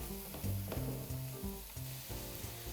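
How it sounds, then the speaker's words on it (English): Tofu pieces fry and get tossed in pad thai sauce in a pan, giving a steady sizzle with scraping stirs and a few clatters of the utensil, close and alone without talk. "take about a 1/4 cup of the sauce, and toss the tofu in it"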